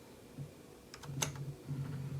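A few crisp key presses on a computer keyboard, including the F7 key, come as a quick cluster of faint clicks over a low steady hum.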